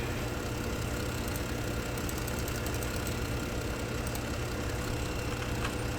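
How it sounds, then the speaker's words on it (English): A tractor engine idles steadily in Farming Simulator 25, a continuous low rumble with a faint knocking texture, holding an even level throughout without any voices. "We'll just take this tractor."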